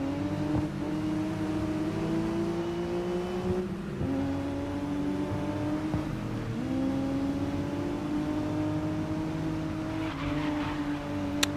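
Race car engines roar continuously in the racing game GRID Legends, loud sustained revving with gear shifts that drop and climb the pitch, occasional tire scrubs, no speech.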